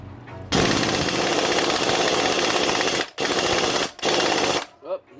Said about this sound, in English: I'm going to break the rules here and use a silver socket on an impact